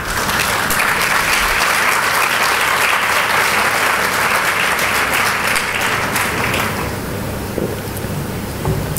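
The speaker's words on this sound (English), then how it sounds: "I see the men clapping as well." A large audience at a Malaysian investment event, men among them, breaks into loud, sustained applause, a dense wash of clapping that runs steadily for the whole stretch before easing slightly near the end.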